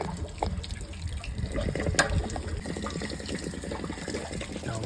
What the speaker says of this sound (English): A little nut in here that we undo, and this drains the water tank.